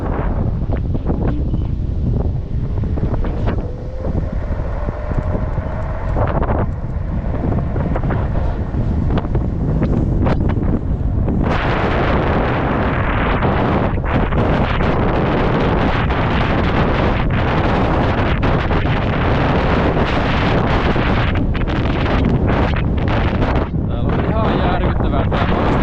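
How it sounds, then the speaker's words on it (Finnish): Strong wind roars and buffets a GoPro microphone on a 1000W electric bike ride, loud and continuous throughout, growing harsher midway, with a voice briefly heard early on. "Täällä on aivan järkyttävä tuuli"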